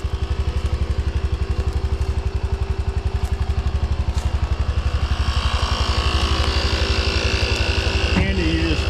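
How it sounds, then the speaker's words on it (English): Portable 12-volt air compressor plugged into a vehicle's cigarette lighter, pumping up a tire on a heavily loaded truck, a loud close steady rapid pulsing motor drone that runs continuously. "Air compressor to pump up my tire"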